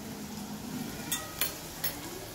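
Cumin seeds tossed into hot oil with roasted garlic, a steady soft sizzle with a few faint clicks of a spoon stirring the pan.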